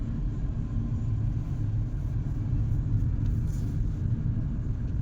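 A car moves slowly along a street in Panvel past roadside stalls, its engine a steady low rumble with continuous road noise throughout and no voices.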